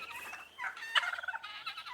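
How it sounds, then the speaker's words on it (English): A turkey gobbles in a quick rattling burst, fairly close and clear, with no talking. "We've got turkeys and Brahma chickens."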